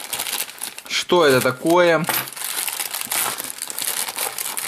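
A plastic AliExpress parcel from China, holding a Huawei Ascend P1 phone, crinkles and rustles steadily throughout while handled up close, with a brief spoken question in the middle.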